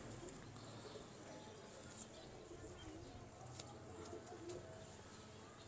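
Domestic pigeons coo softly in a loft, low throaty calls repeating through faint background noise, with a voice murmuring quietly underneath.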